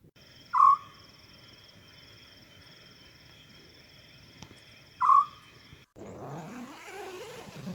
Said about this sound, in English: African scops owls serenaded us to sleep.